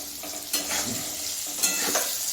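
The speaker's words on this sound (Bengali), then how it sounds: "অল্প অল্প করে ভাজবো, মানে দুবারে ভাজবো" Raw jackfruit pieces frying in a shallow batch of oil, a steady close sizzle with a few louder stirring scrapes, no voices.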